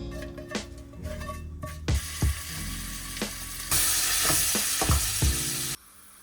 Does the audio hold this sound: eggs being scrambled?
yes